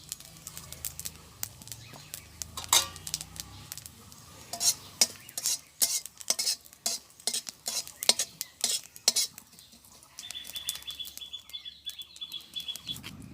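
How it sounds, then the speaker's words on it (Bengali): Cumin seeds frying in oil in a wok, with a soft sizzle under frequent sharp metal clinks and scrapes of a spatula against the pan, close and irregular, plus faint birdsong in the background and no speech. "তো কড়াইতে যে তেল আছে ওর ভিতরে আমি একটা জিরা ভেজে নেব"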